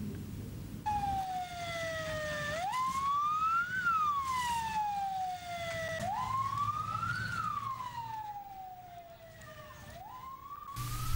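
Wailing fire engine sirens from a fleet of five fire trucks responding to a burning empty house in Banda Aceh, rising and falling in repeated sweeps, loud and steady over a low rumbling background.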